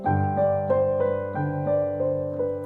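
Piano left-hand chords moving through a slow progression, each chord played in a gentle repeating pattern, soft and close with no voices.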